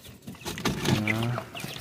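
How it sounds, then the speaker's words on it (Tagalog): Chicks peep and cheep in a short burst of high, thin chirps, close by, mixed with a brief indistinct voice-like sound. "Ayan yung mga sisiw ko."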